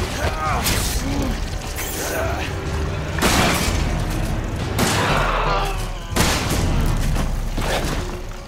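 Heavy shotgun blasts from Resident Evil 7 boom out in a few separate loud bursts, mixed with clanking mechanical noise and a person talking over the action.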